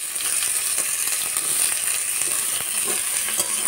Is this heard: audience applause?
no